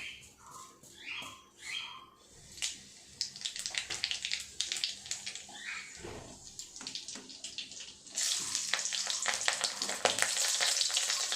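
Nigella seeds and two green chillies dropped into hot oil for tempering in a small home kitchen, crackling and sizzling steadily, then swelling into a louder, denser hiss about two-thirds of the way through.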